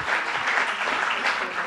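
Audience applause at a Basque Country digital conference workshop on AI and the economy, a steady dense clapping from a room full of people, sustained evenly throughout with no talk over it.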